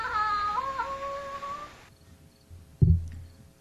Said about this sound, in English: mewed like a lost kitten